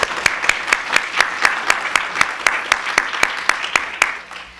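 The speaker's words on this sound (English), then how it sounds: "So if you'll join me in giving them a round of applause" A small audience at a university educator development event claps in a sparse round of applause, with distinct individual claps landing in a fairly regular rhythm before fading out.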